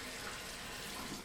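Tap water runs steadily into a sink during a hand-washing demonstration, a continuous close hiss and splash with no talking.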